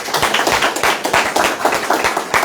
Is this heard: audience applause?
yes